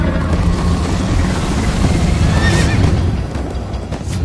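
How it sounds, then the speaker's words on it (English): Horse neighing and hooves clopping in Minecraft Story Mode, a loud whinny rising midway over steady galloping rumble and wind, with no talk. "First time on a horse here."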